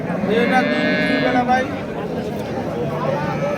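A dairy cow with a young calf lets out a loud, close, drawn-out moo that holds for about a second and a half, then a quieter low rumble and faint background murmur follow.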